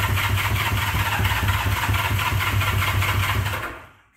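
A 1979 Honda GL1000 Goldwing motorcycle with many issues cranks and catches, its flat-four engine running in a steady loud throbbing burble for several seconds before cutting out abruptly.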